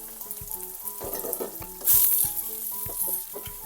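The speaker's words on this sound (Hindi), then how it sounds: "अब इन सबको अच्छी तरीके से फ्राई कर लेंगे यहाँ तक के कीमे का कलर चेंज हो जाए" Minced keema frying with ginger garlic paste and green chillies over lightly browned onions: a continuous close sizzle punctuated by rhythmic spoon knocks and scraping against the pot, with a louder hissing burst midway and no talking.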